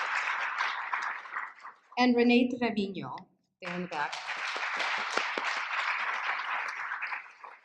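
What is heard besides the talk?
audience applause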